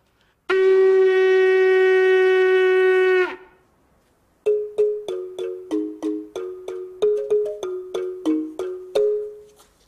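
One long, steady horn note rings out, then stops; after a pause comes a run of short, plucked, bell-like notes played on a balafon in a lively rhythm.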